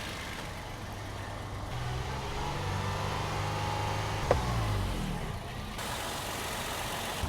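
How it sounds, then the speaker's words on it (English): A car engine revs up and holds a steady raised speed of about 2500 RPM, a constant moderate hum heard from close by, with a brief click partway through and no talking. "increase the RPM to 2500 and keep it there for 10 seconds"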